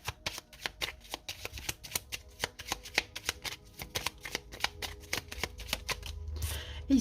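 Lenormand oracle cards being shuffled by hand, a quick run of crisp riffling flicks and soft slaps in an irregular rhythm, close and fairly quiet, ending with a brief rustle.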